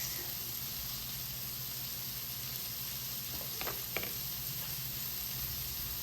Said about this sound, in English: we're gonna let our lobster bisque heat up